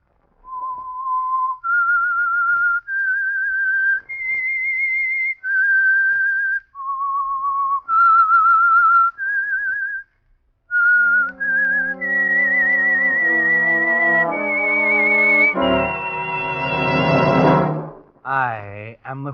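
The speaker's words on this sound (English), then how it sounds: "That whistle is your signal for the Signal Oil Program," A lone whistler performs the eerie theme tune of The Whistler, a Signal Oil mystery radio program, a clear melodic line of sustained notes that is then joined by an orchestral swell and ends in a wavering flourish.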